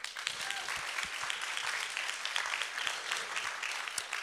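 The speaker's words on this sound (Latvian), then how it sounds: "Ar aplausiem?" Audience applause at a business-event opening, dense continuous clapping from a crowd filling the whole clip with a few sharper individual claps standing out.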